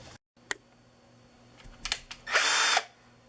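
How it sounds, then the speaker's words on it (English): Power drill boring a hole through a wooden door to run a doorbell wire: a short click and brief whirs, then a loud, close burst of drilling that stops abruptly. "I'm going to drill a hole here in order that I could run the wire from inside the door to the door"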